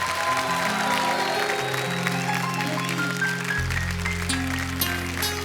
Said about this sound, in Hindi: प्लीज एक बार अर्चना जी के लिए जोरदार तालियां